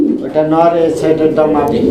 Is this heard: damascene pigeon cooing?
yes